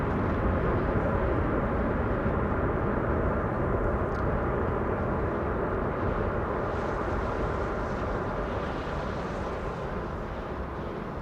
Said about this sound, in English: Reversers being applied